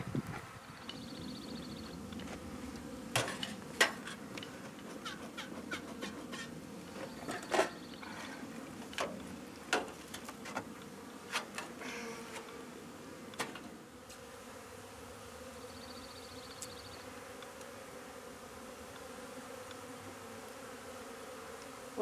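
Mountain honeybees buzzing around their hive during a spring inspection, a steady close hum with individual bees zipping past the microphone and occasional sharp clicks and taps.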